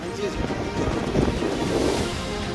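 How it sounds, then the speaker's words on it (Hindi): Strong sandstorm winds in the Bikaner desert, a continuous loud rushing roar of wind buffeting the microphone, steady across the stretch, with someone narrating over it. "तेज हवाओं के साथ रेत का तूफान उठा"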